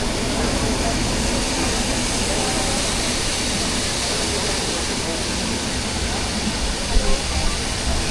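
Broadband rushing roar of a waterfall in the Khandala ghat, heard from aboard the Pragati Express train, steady and loud throughout with rail and engine rumble blended in.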